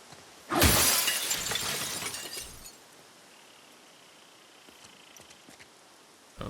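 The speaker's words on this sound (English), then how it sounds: "Does it damage my weapon to break the glass?" Glass shatters loudly in the video game The Last of Us Part II, one sharp burst of breaking glass with tinkling debris that fades over about two seconds into quiet.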